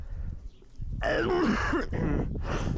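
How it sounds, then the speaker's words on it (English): A loud, rough throat clearing up close, a harsh guttural rasp followed by a couple of shorter follow-up bursts. "sorry about that, I had to clear my throat"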